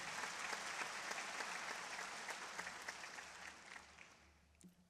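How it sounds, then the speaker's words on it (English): Audience applause at the 2013 ICFP opening ceremony, a dense, steady wash of clapping from a large crowd that gradually thins and fades toward the end. "Please clap for him."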